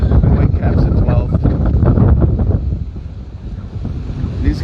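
Strong wind roars steadily over open water on a race course during vintage hydroplane racing, buffeting the microphone with loud, continuous low rumble and gusts throughout.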